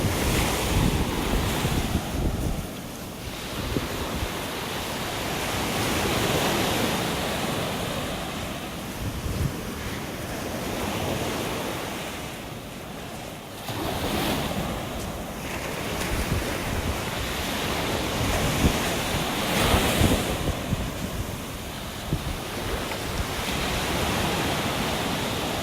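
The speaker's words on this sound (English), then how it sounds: "Listen to those waves." Ocean waves break and wash ashore on a beach in North Naples, Florida, rising and falling in slow surges over heavy wind noise buffeting the microphone, with no talking.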